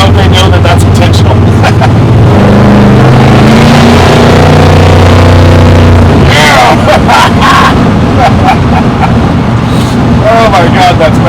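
A muscle truck's 383 small-block Chevy V8 revs and roars up close, pitch climbing and falling, amid crowd noise and excited voices talking over it.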